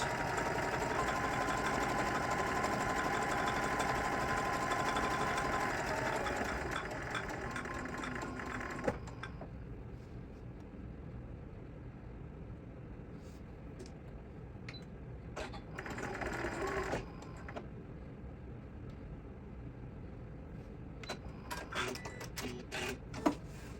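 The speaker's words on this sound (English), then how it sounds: "I just back tacked a little bit" A home sewing machine stitching and back tacking a fabric sling pouch runs in a fast, steady whir for about nine seconds, then falls quiet into scattered clicks and handling noises.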